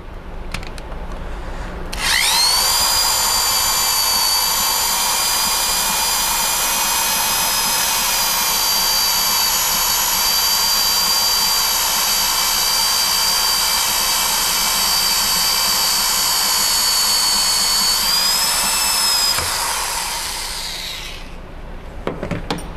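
A power drill whines steadily at high pitch for about twenty seconds, driving a knurling tool through an engine valve guide in the cylinder head, its pitch shifting slightly as it works through metal, then winds down and stops.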